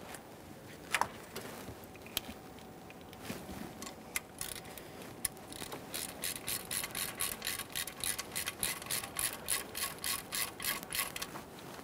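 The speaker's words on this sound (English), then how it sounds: "start them in by hand and snug them up using an E6 Torx socket" A ratchet wrench with an E6 Torx socket snugs intake manifold studs on a 2011-2020 Toyota Sienna 3.5L V6, scattered clicks giving way to a steady, close run of rapid ratcheting pulls, with no talking.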